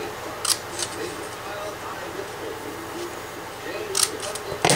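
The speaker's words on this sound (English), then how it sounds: "Then we're going to cut off 1 petal from this one." Scissors snipping a single petal off a paper rose, heard as a few short crisp cuts near the start and end, close and light, over faint background hiss.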